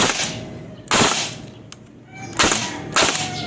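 An upgraded JG M4 airsoft rifle fires four sharp, close cracks at uneven intervals, each a crisp snap with a brief mechanical clatter between them.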